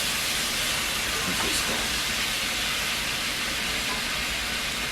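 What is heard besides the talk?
boiled baby back ribs sizzling in their own grease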